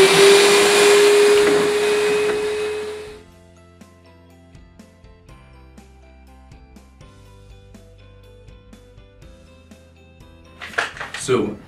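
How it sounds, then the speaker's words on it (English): A wet dry vac roars as it sucks water off a hard floor during stripping and scrubbing. The loud, steady whine lasts about three seconds, then cuts off, leaving a quiet room with faint clatter and a short burst of noise at the end. "you can immediately use the wet dry vac and pick it up"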